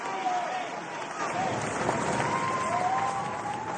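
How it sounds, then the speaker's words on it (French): A crowd at the Republican march in Paris applauds a citizen hugging a riot policeman, steady clapping and crowd noise under a voice talking over it. "Une accolade, applaudie par la foule."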